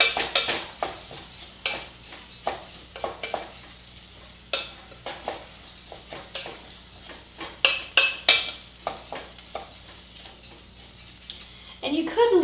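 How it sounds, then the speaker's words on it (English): Rice stirred in oil in a pot for a vegan squash risotto, a steady run of scraping, clinking spoon strokes against the pot, close and fairly loud over a faint sizzle, with a voice speaking at times. "I'm just gonna stir it around so that the rice gets coated with oil"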